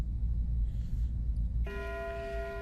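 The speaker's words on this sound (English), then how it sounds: "When the bell rings" A single bell strikes and rings out with a clear, sustained metallic tone in the second half, after a low rumbling ambience, fairly loud and close.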